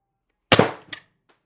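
A single sharp shot from an X-68 Storm Trooper build airgun running under 430 psi, a loud close crack that decays quickly, followed by a softer mechanical click and a faint tick.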